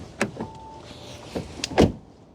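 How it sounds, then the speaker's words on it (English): A 2024 Audi Q3 45 TFSI door shuts with a solid, muffled thud near the end, preceded by a few light clicks and soft mechanical sounds in a quiet cabin. "let's listen to the sound of the closing door"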